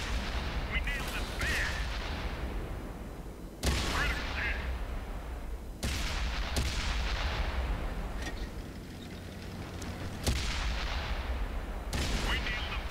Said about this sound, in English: Ready to fire on target.